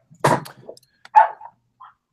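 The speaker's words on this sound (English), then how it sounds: "My dogs are barking." Dogs bark in two or three short, sharp bursts close by, with a brief quieter yip at the end and silence between the barks.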